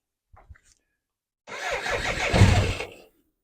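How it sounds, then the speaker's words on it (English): A BMW K100 motorcycle engine starts nearby after its injector and fuel line quick disconnects were replaced: a short clunk or two, a brief pause, then the starter cranks and the engine catches into a loud, rising run for about a second and a half. "all we have to do now is start the bike and see what happens."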